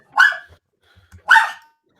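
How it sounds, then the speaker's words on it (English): A dog barks twice, two sharp close barks about a second apart with quiet between them. "This dog is crazy."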